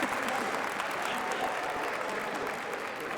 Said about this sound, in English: Well, maybe a little noise from the crowd will help wake you up.